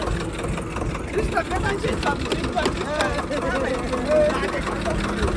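A Kubota tractor engine idles steadily at a festive village gathering, a continuous mid-low rumble running throughout while several people talk over it.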